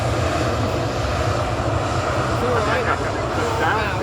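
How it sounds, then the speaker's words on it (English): Steady roar of a Ryanair jet aircraft at Manchester Airport, loud and continuous from a nearby vantage point, with someone talking over it. "Down is also a Ryanair. This time it's the Malta version."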